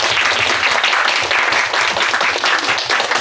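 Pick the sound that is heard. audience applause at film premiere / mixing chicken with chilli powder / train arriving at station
audience applause at film premiere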